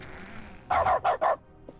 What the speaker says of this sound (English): Do you want to hear a dog barking whenever I press E?